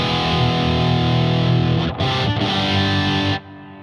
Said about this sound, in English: I'll add gain and see how much gain you get out of this thing. Seems you get a fair amount because right away it starts hissing a lot.